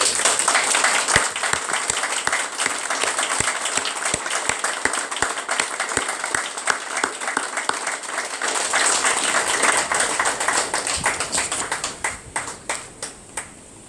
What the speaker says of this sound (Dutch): Wij vragen u een respectvol applaus voor deze dappere Surinamers.